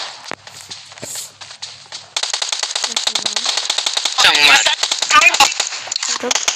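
Rapid bursts of gunfire from a video game gun fitted with a 2x scope, a dense string of sharp, loud cracks that grows heavier and more continuous partway through.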